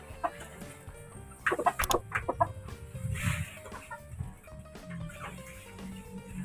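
A hen clucks repeatedly at close range, short bursts of clucking over a busy background with other faint bird calls.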